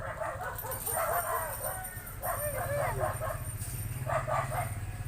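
A dog barks and yips repeatedly at a moderate distance, the short barks coming in clusters over a low background hum, with voices faintly present.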